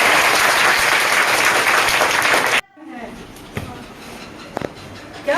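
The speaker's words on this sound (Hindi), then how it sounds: "वेरी गुड, अपने लिए ताली बजाइए।" Loud, dense applause from a classroom of students fills the first half, then cuts off abruptly into a quieter room with scattered small knocks and a teacher's voice.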